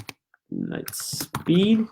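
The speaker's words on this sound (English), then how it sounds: "So let's type that in here." Typing on a computer keyboard: a short burst of quick keystroke clicks, close and clear, between bits of nearby talk.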